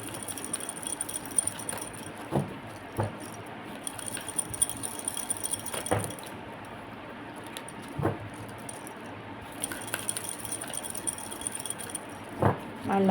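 Tarot cards shuffled by hand, with soft riffling and rustling, a few sharper taps and snaps at intervals, heard close and fairly quiet with no talking.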